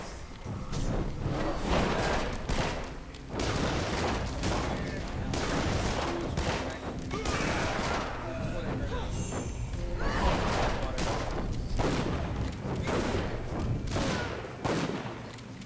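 Repeated critical shot attacks in the Dungeon Siege 3 video game, a rapid, continuous barrage of sharp impact bursts layered over game noise and a speaking voice throughout.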